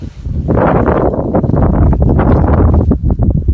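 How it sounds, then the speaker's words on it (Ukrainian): Gusty wind buffets the microphone with a low, continuous roaring rumble that swells and flutters for a few seconds, outdoors in a forgotten Ukrainian village. "ще й вітер піднявся"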